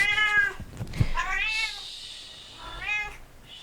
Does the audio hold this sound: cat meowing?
yes